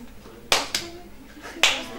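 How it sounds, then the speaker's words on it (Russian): Hands clapping at a talk, a few sharp claps spaced unevenly within two seconds, close and fairly loud over a quiet room murmur. "Ты просто хлопаешь в ладоши."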